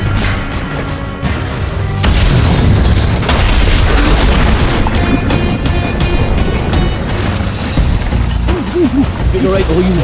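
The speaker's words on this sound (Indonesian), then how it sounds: "Berita ledakan bom itu langsung heboh dan jadi viral" A bomb set off as a staged fake killing in a mafia film erupts in a loud, booming blast. Heavy rumble and debris-like crashing follow, with dramatic music and sound effects layered throughout.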